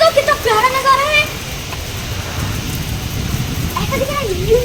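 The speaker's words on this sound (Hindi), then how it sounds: "ये देखिए तूफानी बारिश 6 बजे हो रही" Heavy stormy rain pours at six in the evening outside a home in Hyderabad, a steady dense wash of noise with voices talking over it at the start and end.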